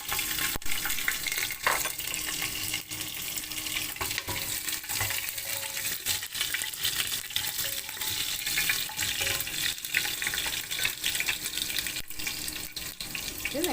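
Garlic fries in oil after mustard seeds have spluttered, a constant bright sizzling hiss with faint stirring clinks and no talking.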